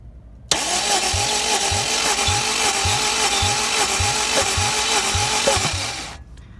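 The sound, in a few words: Honda Civic Si K20Z3 engine cranking for compression test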